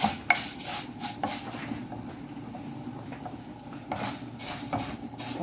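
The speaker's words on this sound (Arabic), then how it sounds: "احنا بنبدأ نقلب فيه كويس كده" Meat and rice being stirred in a cooking pot for a green bean and meat dish, with clinking spoon-on-metal scrapes and light bubbling, fairly faint and close, with no talking.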